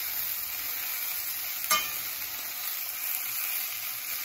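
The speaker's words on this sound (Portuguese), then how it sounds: "Vou dar uma viradinha aqui no meu bife." A beef steak fries in a pan with a steady, close sizzle, broken once by a brief clatter as it is turned over, then the sizzle carries on alone.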